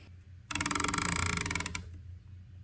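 A rapid run of small mechanical clicks from an OrcAIr 5-25x56 competition rifle scope turret ratchets for about a second, crisp and close, against a low background hum.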